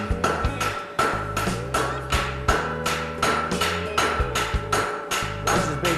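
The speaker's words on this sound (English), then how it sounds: "Notice the angle of the sledge, wedging the material up, now setting it down to create a wedge." A sledgehammer forges hot metal, drawing it down into a wedge: a steady series of loud, ringing hammer blows, roughly one or two per second, close and repetitive.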